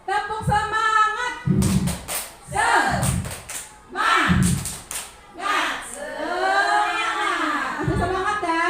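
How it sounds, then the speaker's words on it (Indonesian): A group of people at a school gathering doing a rhythmic motivational clap, sharp claps in patterned bursts alternating with chanting voices, close and loud. "Tepuk semangat."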